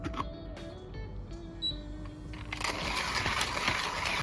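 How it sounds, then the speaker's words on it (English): A HiBREW G4B hand coffee grinder, set for pour-over, starts with a few faint mechanical clicks and tones, then breaks into a close, steady crunching grind of coffee beans for the last couple of seconds. "The grinding process is smooth and easy, taking just 40 seconds to grind 15 grams."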